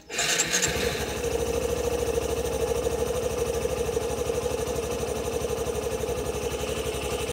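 A Honda Passion Pro motorcycle engine, clutch-started with its idle start-stop system, kicks in after a brief pause and settles into a steady, close, even idle that runs without interruption.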